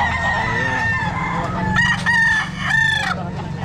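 A grey gamefowl rooster crows repeatedly at a busy pet market, its loud, close calls rising over constant crowd murmur and other birds in the background.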